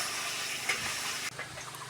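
Onions frying in a pan for a chicken scraps curry, a steady soft sizzling hiss with a faint crackle, fairly quiet and close, with no talking.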